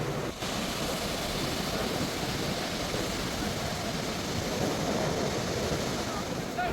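Athirapally waterfall pours down in a steady, dense roar of rushing water that fills the whole scene without pause, with possible faint voices nearby.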